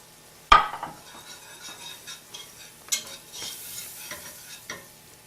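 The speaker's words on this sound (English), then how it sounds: "We want this to cook just until the roux is lightly brown." A roux cooking in a pan and being stirred, with a sharp utensil clink on the pan, then intermittent scraping strokes and soft clatter over a faint sizzle.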